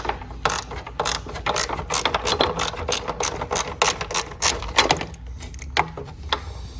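Ratcheting clicks from a wrench working a bolt loose on the rear brake assembly of a Venom Motorsports X20/X21 motorcycle, a dense, steady run of close mechanical clicking with short pauses near the end.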